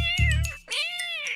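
Cats fighting, with two drawn-out, wavering yowls close up, the second rising after a brief break.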